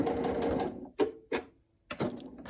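Sewing machine stitching a pin cushion, running in short bursts with pauses as it reverses back and forth over elastic for reinforcement, close and fairly quiet.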